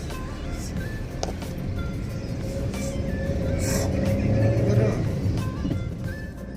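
A car cruises along a smooth highway on a road trip to Palamu, heard from inside as a steady low engine and road rumble that swells slightly midway, then eases.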